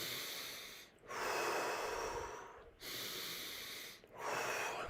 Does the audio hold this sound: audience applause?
no